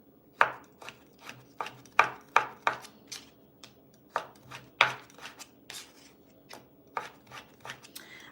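Young coconut being chopped by hand into tinier pieces for Cambodian smashed roasted rice, a close series of sharp knife taps on a board in an uneven rhythm, with no voices.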